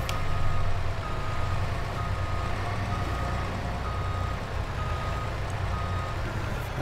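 A lorry reversing in a farming simulator game, its backup alarm beeping in a steady repeating rhythm over a loud, continuous low engine rumble.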